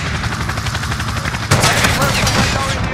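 Dense bursts of automatic gunfire fill a video game firefight, growing louder and sharper halfway through, with a continuous rattle and faint radio-style voices underneath.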